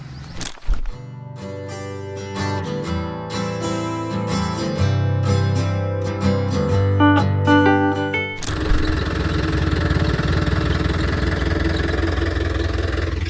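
A JCB backhoe's engine runs steadily and loudly close by, a droning mechanical tone that shifts into a rougher, broader roar partway through.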